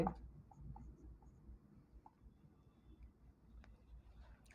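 Faint scratchy strokes of writing on a board during a class 10 maths lesson on circles, tangents and cyclic quadrilaterals, with soft, irregular ticks and scrapes over a quiet room hum and no talking.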